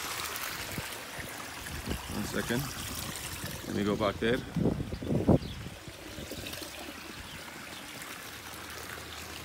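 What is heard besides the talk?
pool water pumped through a hose and flowing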